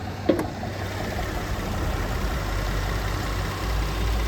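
A Kia Sedona's 3.3-liter V6 idles under the hood, a steady, quiet low rumble holding even from start to finish, with a single brief tap near the beginning.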